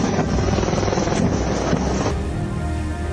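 Military aircraft and helicopters of the Indian Air Force flying past at a Republic Day parade, a loud rotor-like roar with wind buffeting that abruptly drops to a lower, steadier drone partway through.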